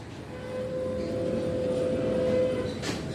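A pet imitates a train, holding one steady, whistle-like tone for about two seconds over a background rumble, with a short burst of noise near the end.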